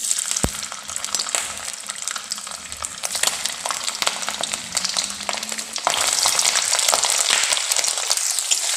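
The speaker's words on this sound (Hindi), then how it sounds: "अब हमने जो पनीर लिया था वो सारा पनीर इसमें ऐड कर देंगे।" Paneer cubes frying in hot mustard oil over a medium flame, a close, dense sizzle with a few stirring knocks, growing louder and fuller toward the end, no talking.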